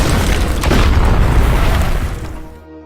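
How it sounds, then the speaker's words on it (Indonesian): A landmine explodes in a film scene: one loud, deep boom that rumbles and slowly fades over about three seconds, with no voices. "Akibat ledakan tersebut,"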